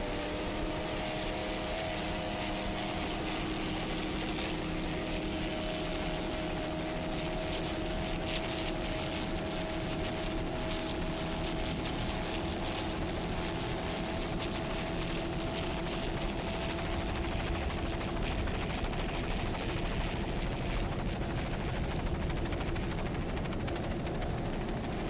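A helicopter flies over an offshore powerboat race on open water, giving a steady, dense rotor and engine roar that fills the whole stretch at an even, loud level, with no talk and no clear breaks.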